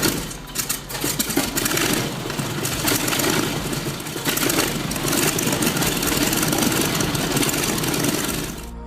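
A heavy propane-fuelled tank engine idles with a rough, chugging rumble, steady and fairly loud across the whole stretch without any talking.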